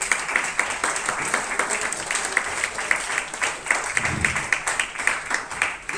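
A crowd at an MLM presentation breaks into loud applause, with dense rapid clapping that keeps going for several seconds and a few louder bursts inside it.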